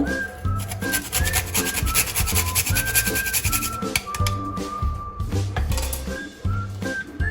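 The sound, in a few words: nutmeg being grated into puran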